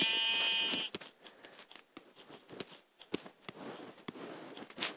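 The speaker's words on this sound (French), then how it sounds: "on va prendre ce petit mouton" A sheep in Minecraft bleats once at the start, a clear harmonic call close by, followed by a run of light taps and clicking game sounds.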